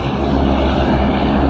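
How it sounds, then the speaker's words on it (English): Small propeller plane on an inter-island flight in Hawaii, a loud, steady engine drone with a low hum heard from inside the cabin, continuous and unchanging, with no talking. "Should be a fun experience, inter-isle flight on a little plane."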